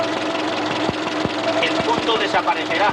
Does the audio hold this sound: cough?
no